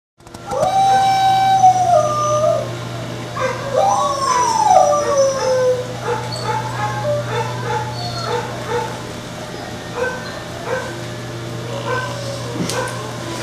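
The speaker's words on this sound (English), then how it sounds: "he lifts his head in response to Luna howling, and you hear Oscar barking in the background" Dogs in a lab kennel: Luna lets out long rising and falling howls while Oscar barks and yips in the background, over a constant low mechanical hum.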